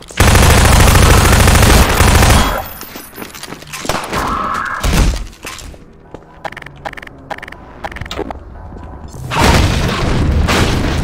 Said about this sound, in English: Shotgun round.